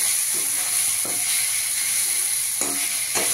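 Chopped onion sautéing in a pan for a mixed cauliflower and potato curry, a steady close sizzle with a few soft stirring scrapes, no voices.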